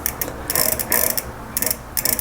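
An overhauled multispeed bicycle freewheel clicks as its ratchet spins, rapid close pawl ticking arriving in short bursts that speed up and then ease off, fairly quiet with no voices.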